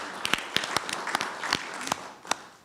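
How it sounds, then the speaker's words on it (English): Scattered claps from a modest audience at a foundation-sponsored superintendent's workshop, a thin, uneven patter of individual hands rather than a full roar, with sharp isolated claps standing out. "Give them a round of applause"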